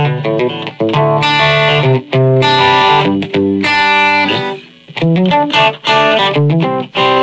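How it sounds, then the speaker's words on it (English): Heavily distorted electric guitar through a Boss eBand JS-10, set for a classic rock tone, plays chunky chords and riffs in bursts with short gaps, loud and dry, with no lingering echo. "Here it is, without the reverb."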